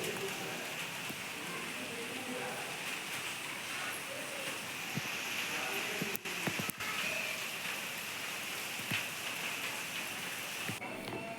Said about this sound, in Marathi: आठ दिवसापासून सगळीकडे असा मुसळधार पाऊस पडत आहे